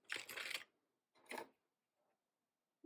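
Metal car keys jingle briefly as they are dropped into a small Louis Vuitton Pochette Accessoires bag: two short clinking bursts separated by quiet, close and fairly soft.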